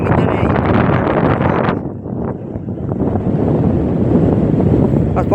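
Gusting wind buffets a handheld microphone outdoors at night, a heavy booming rumble that dips briefly near two seconds and then surges back, loud and close throughout.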